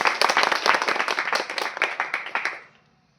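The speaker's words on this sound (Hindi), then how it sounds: "और एक बार पुनः सभी लोग जोरदार तालियां बजाएं" A ceremony crowd claps loudly in honour of a guest at a Tulsi Jayanti gathering, brisk rhythmic applause that swells then fades out near the end.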